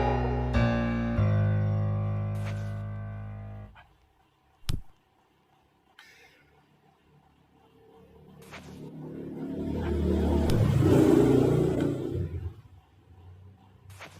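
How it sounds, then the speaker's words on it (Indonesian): After some music fades out, a motorcycle engine approaches, swells into a loud rumbling pass-by, and then recedes. "Maaf ya kalau ada suara motor guys."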